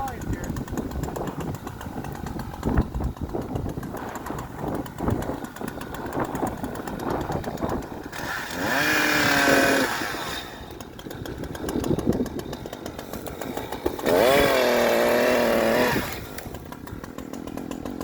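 An Echo Timberwolf 590 chainsaw cutting ironwood outdoors on a windy day, engine idling and then revving up in two sustained bursts, close and loud, with people talking between the cuts.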